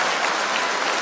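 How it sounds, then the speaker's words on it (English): A comedy show audience at a leadership conference claps steadily, a dense, even burst of applause filling the room with no voices over it. "So I want to clap for my mama there."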